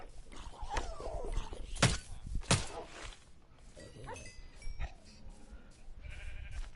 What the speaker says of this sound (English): Yeah, the zombie horse!